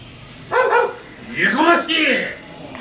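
A dog barks and yips at a drunk man in the Mojiko Retro streets of Fukuoka, giving a short burst of close, loud barks, then a longer yelping, whining bark sequence against outdoor background noise.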